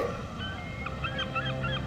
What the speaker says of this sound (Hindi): बतख, मेरा प्यारा बतख।